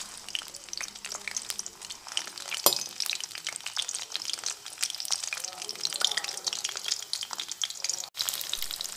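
Pieces of pointed gourd and potato frying in hot oil, giving a steady crackling sizzle with scattered pops and stirring scrapes, moderately close, while someone talks over it.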